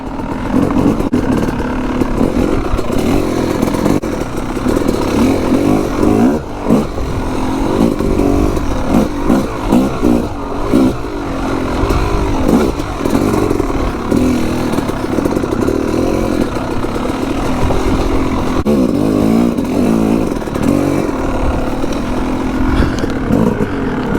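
A Yamaha YZ 250 two-stroke dirt bike rides on trails and single track, its engine buzzing loud and close throughout with constant revving that rises and falls as the throttle changes.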